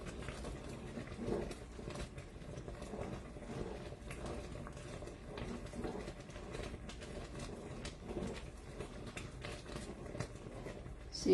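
Peanut butter fudge boils steadily in a pot on a stovetop burner, a continuous low bubbling and popping that stays even and fairly quiet throughout, with no talk over it.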